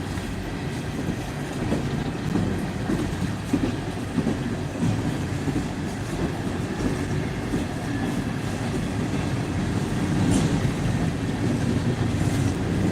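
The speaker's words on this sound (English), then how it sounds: "as soon as this train clears" A train rumbles past close by, a steady heavy roar with rhythmic clacking of wheels on track, no voices.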